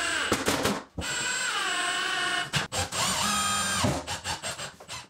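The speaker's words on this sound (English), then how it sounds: "I'm screwing these into the studs in the wall" A power driver sinks washer-head screws through a pantry cabinet into wall studs, whirring in two long sustained bursts with brief pauses, then slowing into a few short pulses at the end.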